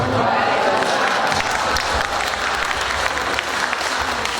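A crowd claps steadily at a teachers' literacy workshop in Temanggung, Central Java, a dense, even patter of applause that holds for several seconds.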